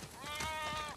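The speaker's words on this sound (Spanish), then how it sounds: "Tenemos demasiadas ovejas." A single sheep in The Last of Us Part II gives one short, wavering bleat of about a second, faint but clear.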